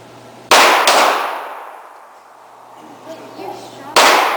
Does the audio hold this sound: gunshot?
yes